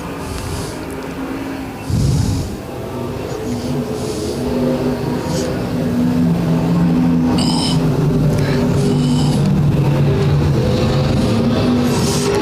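Dirt-track race cars at a Missouri raceway roar away at the green flag, a loud sustained engine drone building and holding steady with bursts of revving and a commentator's voice over it.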